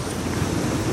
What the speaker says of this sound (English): I'm getting close to the waterfall.